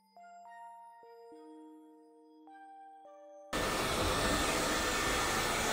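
A short melody of electronic chime tones, then a loud, steady whirring motor noise as a Robit V7S Pro robot vacuum cleaner starts running nearby in random cleaning mode.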